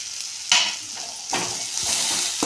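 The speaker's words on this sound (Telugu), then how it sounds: "ఇప్పుడు బెండకాయలు వేసుకున్నాం వేయించుకున్నాం కదా నూనెలో వేసుకున్నాం" Okra pieces fry in hot oil, making a close, steady sizzle that swells in bursts as they are stirred.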